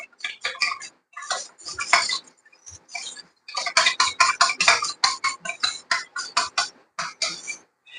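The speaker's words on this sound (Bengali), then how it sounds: "জলের সঙ্গে আগে ভালো করে কর্নফ্লাওয়ারটাকে মিশিয়ে নেব" Cornflour being stirred into water in a bowl, rapid rhythmic clinks and scrapes of a spoon against the bowl in close quick bursts with short pauses.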